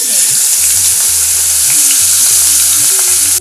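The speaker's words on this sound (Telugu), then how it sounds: "నల్లేరుని ఇలా స్లో ఫ్లేమ్ మీద మంచిగా వేయించి తీసి పక్కన పెట్టుకోవాలండి" Adamant creeper (nalleru) stems frying in oil on a slow flame, a loud, close, continuous sizzle with faint stirring underneath and no talk.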